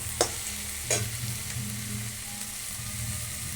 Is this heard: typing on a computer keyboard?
no